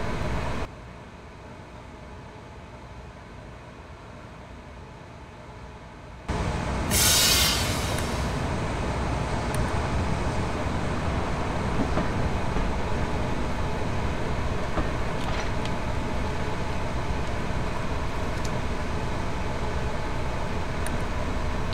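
An express passenger train departing Manchester London Road in Train Simulator 2015: a steady rumbling rolling noise that starts after a quieter opening, with a brief hiss near the start and continuous engine and wheel roar without speech.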